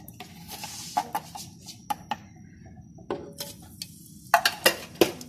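A spoon scraping and clinking against a kadhai while salt is stirred into melted ghee, with a series of sharp metallic knocks spaced irregularly over a quiet background.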